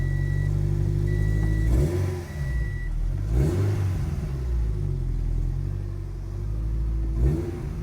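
A nearby Subaru BRZ engine hums steadily and revs up in several short bursts, each rising and falling back to a rumbling idle.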